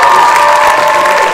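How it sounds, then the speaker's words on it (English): A brief, loud burst of audience applause and cheering at a live songwriter night concert, dense clapping with shouts and whoops blended into one wash. "Can we just get a round of applause?"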